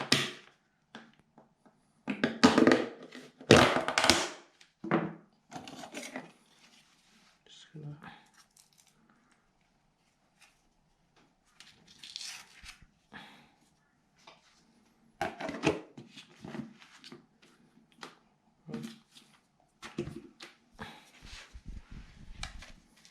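Gyprock multi-joint compound being stirred with flexible blades for drywall patching: soft, wet squishing and scraping strokes in short bursts between stretches of quiet, with someone talking.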